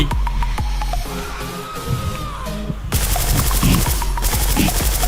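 Video game shootout with rapid automatic gunfire, repeated loud bursts and bangs running through the whole clip, growing denser in the second half.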